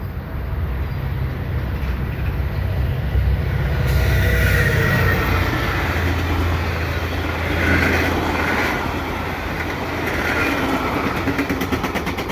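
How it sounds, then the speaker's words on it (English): A westbound freight train rumbles past with a steady roar and rattling cars, its wheels clattering and faintly squealing over the tracks throughout, with rain falling. "Freight train is headed west."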